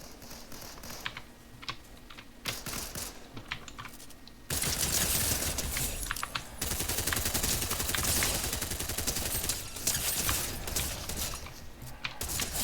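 Gunfire in the Fortnite video game: rapid bursts of automatic shots crackle densely over a steady background for several seconds, mixed with close keyboard and mouse clicking, and no one talks.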